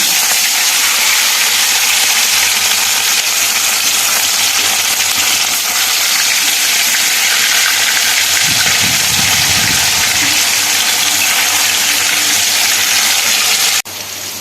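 Rohu fish pieces frying in hot mustard oil in a kadai, giving a loud, steady, continuous sizzle with a brief low rumble midway before the sizzle drops off near the end.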